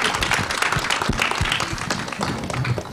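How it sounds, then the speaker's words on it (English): An audience at a film trailer launch event breaks into applause, a busy patter of clapping that is fairly close and holds for the whole moment with some crowd voices mixed in. "A big round of applause, ladies and gentlemen,"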